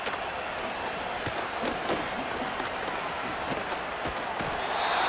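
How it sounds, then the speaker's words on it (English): A stadium crowd in the Madden 25 football video game roars as a steady, dense wash of noise that swells louder toward the end, with some speech mixed in. "This crowd trying to be a factor, getting very loud now."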